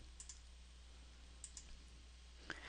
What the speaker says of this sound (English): mark the checks that have cleared the bank by clicking the checkbox